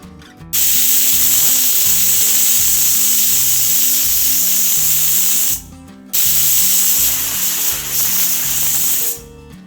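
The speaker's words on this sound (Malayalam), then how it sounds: "എന്നിട്ട് ഒരു 3-4 വിസിൽ വരുന്നവരെ വേവിച്ചെടുക്കാം" A pressure cooker boiling two potatoes lets off a loud, steady hissing whistle of steam. It cuts out briefly partway through and then resumes, with a rhythmic rattling underneath.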